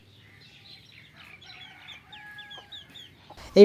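Desi chickens clucking, soft scattered clucks and short calls at moderate distance over a quiet background, ending with a sudden loud burst of closer sound.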